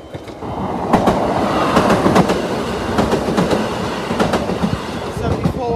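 A Class 170 diesel train rolls past nearby at a level crossing with rhythmic clickety-clack of wheels over rail joints and a steady rumbling roar.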